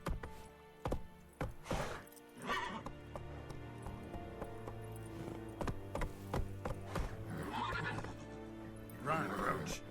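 Roach, the horse in The Witcher 3, gallops with a steady clip-clop of hooves and lets out several loud neighs and whinnies. Game music and other sounds run underneath, and a voice speaks briefly.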